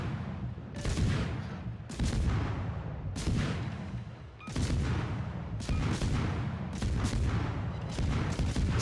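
A World of Warships destroyer's single-shell guns fire in booming salvos about every second, each blast sharp and loud with a rumbling tail, alone without talk.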